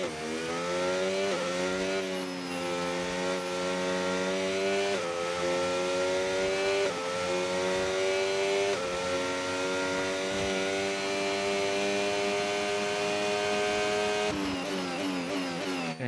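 A Williams FW47 Formula 1 car screaming through an onboard lap of the Las Vegas street circuit in the F1 25 video game: a high, whining engine note climbing in pitch, dropping with each gear change, then rising again.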